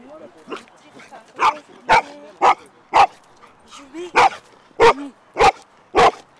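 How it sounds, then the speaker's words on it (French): Dog barking in a domestic setting, about nine sharp barks in an irregular series, close and loud, with faint whimpering and a voice in between. "Tu arrêtes d'aboyer."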